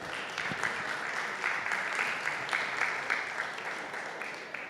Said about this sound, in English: Please give her a round of applause, everyone.